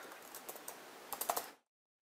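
Quiet, close keystrokes on a computer keyboard, a quick irregular run of clicks with a denser burst near the end before stopping abruptly.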